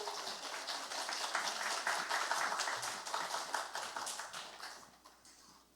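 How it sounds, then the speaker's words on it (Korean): A church congregation claps to welcome a speaker, brisk rhythmic applause building to a steady peak and then tapering off near the end. "우리 박수로 한번 환영해 주시기 바랍니다."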